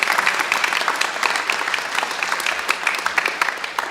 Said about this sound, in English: let's have a big round of applause for our announcers today